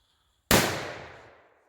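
A single SIGMA BULLDOG XP1074 Triplex firecracker explodes with one sharp, loud bang, then a long fading rumble, against near silence.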